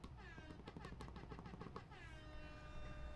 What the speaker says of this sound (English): Also, here's your air horn.